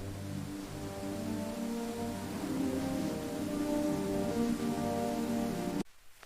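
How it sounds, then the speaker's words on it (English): Steady rain falls in a mountain setting near a tree house, a dense even hiss of drops close by that runs unbroken, then cuts off abruptly near the end. "So relaxing in the rain."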